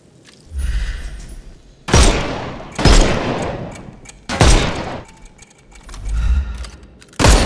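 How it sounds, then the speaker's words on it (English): Gunfire blasts in a Sherlock Holmes video game shooting armour off enemies, four loud, close bursts with sharp attacks, each decaying over about a second, separated by quieter gaps. "Shoot off their armour."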